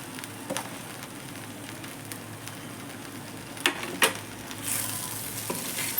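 Bhindi masala stirred in a pan after Kashmiri chili and roasted flour are added, a soft continuous sizzle broken by a few sharp scrapes and clinks of the spoon against the pan.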